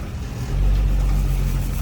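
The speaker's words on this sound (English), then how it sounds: "Engine runs great" A classic Dodge truck engine, roused after about 30 years, idles with a steady low rumble that swells slightly partway through and holds close and loud, with no talk over it.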